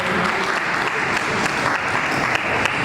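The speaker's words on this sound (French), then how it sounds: "Sous vos applaudissements, Madame Fallon, s'il vous plaît." Dense, continuous applause from a large crowd at an awards ceremony in a hotel fills the whole stretch, loud and steady with no talking above it.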